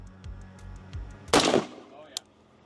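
A single loud gunshot fired at a ballistic dummy head cracks out sharply amid a low background rumble, followed by a brief lingering decay and a faint click.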